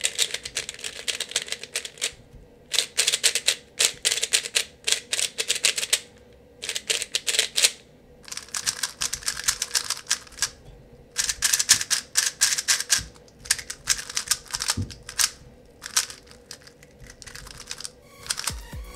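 Rapid plastic clicking and clacking of a GuoGuan YueXiao Pro M magnetic speed cube turning, in bursts separated by short pauses, close up, with no voices.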